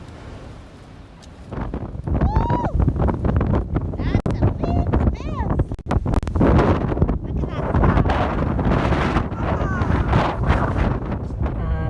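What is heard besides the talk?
wind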